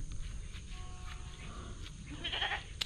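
A goat bleats faintly at a distance over a low outdoor rumble, with a brief louder cry near the end.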